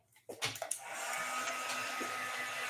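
A hair dryer runs steadily and loudly after a short handling clatter, drying wet watercolor paint on paper, its airflow whoosh holding an even tone without pause.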